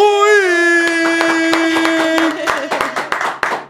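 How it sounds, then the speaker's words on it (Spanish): A studio audience starts applauding to welcome tennis player Mónica Puig onto a talk show, with scattered claps growing denser over a sustained musical tone, and a voice is heard at the start. "recibamos con un fuerte aplauso a Mónica"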